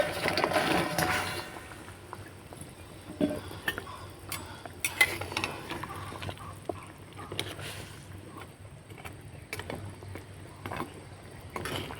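Fried semolina pithas stirred in boiling sugar syrup in a pan, with scattered scraping and clinking of the spoon over a faint bubbling simmer.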